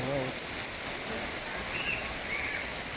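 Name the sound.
heavy rain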